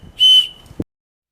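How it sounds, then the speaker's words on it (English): A small emergency whistle clipped to a carabiner gives one short, shrill blast of about a fifth of a second, then a faint clack. "With a little carabiner with a whistle on it."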